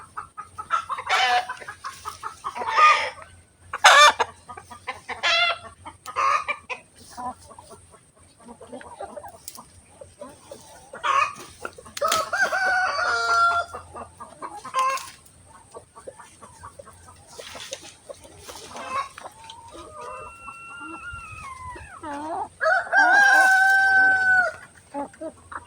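Chickens on a backyard range cluck in short scattered bursts, with a rooster crowing loudly near the end, the calls sounding close and clear against quiet surroundings.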